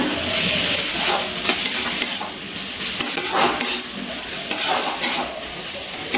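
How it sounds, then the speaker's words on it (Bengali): Radish and potato curry being stirred in a cooking pot after the lid is lifted, with continuous sizzling and repeated scraping stirs close up, no talking. "5 মিনিটের মধ্যে আমি ঢাকনাটা তুলে একবার একটু নাড়াচাড়া করে নিয়েছিলাম।"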